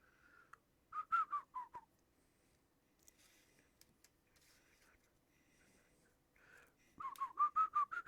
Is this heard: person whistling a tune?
yes